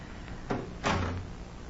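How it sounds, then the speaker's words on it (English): Two doors shut in quick succession in an old radio drama, a softer thud followed by a heavier, louder bang with a brief low ring, each standing alone against a quiet background. "Out this way, and shut the doors behind us."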